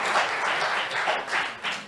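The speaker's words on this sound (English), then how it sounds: "Let's give those girls a round of applause for putting that together." Audience applause at a celebration-of-life memorial for Scott Carter: steady, dense clapping from a crowd, holding at an even level with gentle swells throughout.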